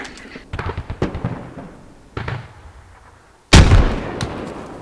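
Video game combat: scattered gunfire-like thumps, then one loud, sudden explosion that booms and slowly fades.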